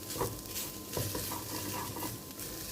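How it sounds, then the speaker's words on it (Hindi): Grated coconut roasting over a low flame in a pan, stirred with soft scraping strokes and a faint background sizzle, close and quiet with no voices. "तो इसे लो फ्लेम पे आराम से भून लेंगे"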